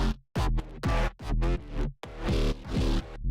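Layered bass patch for a meme remix: a grinding, heavily distorted wobble riding on a clean, steady sub bass, loud and rhythmic in repeated pulsing phrases with brief gaps between hits.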